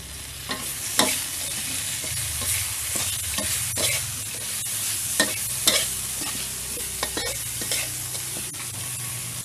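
Crispy pork with holy basil and oyster sauce being stir-fried in a pan, a steady sizzle broken by repeated sharp scraping clicks of the spatula stirring, with no one talking.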